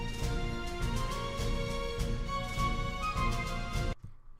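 Orchestral violins carry a melody together with piccolos and flute, a dense, full ensemble texture that holds steady and then cuts off abruptly to near silence at the end.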